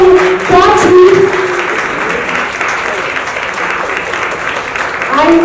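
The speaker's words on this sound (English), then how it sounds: "Can we have a big round of applause for Prachi?" An audience at a women entrepreneurs event applauds the second runner-up, a close, loud, continuous patter of clapping with voices and cheers briefly poking through at the start and end.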